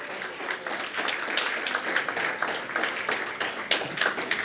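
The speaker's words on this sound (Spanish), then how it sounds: "Denle un aplauso al Dios de la gloria." A church congregation claps during a worship service, a lively, close round of many hands with distinct sharp claps standing out, continuous throughout.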